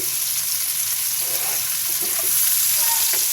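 Banana flower curry with plenty of green chilies frying in a pan, a steady close sizzle with faint stirring scrapes running evenly throughout.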